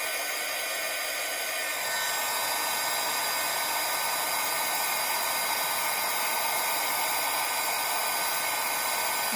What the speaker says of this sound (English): And let me heat my heat gun up a little bit.